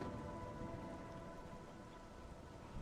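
Rain falling in a video game forest, a dense, steady hiss of drops that stays loud and even throughout, with a faint tonal hum beneath and no voices.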